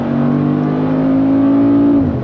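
A 2023 Mercedes-Benz G63 AMG with a 585 hp engine accelerating hard on the Autobahn: a loud, steady, rising engine drone that dips briefly at the end as if shifting gear, close up and with no talking.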